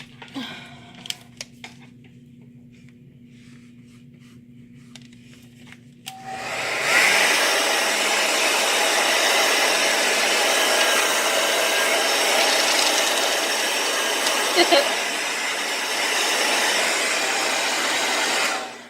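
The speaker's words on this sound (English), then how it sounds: "Where's my blow dryer?" A hair dryer switches on after a few quiet seconds of small handling noises, then blows with a steady, loud whir that continues to the end.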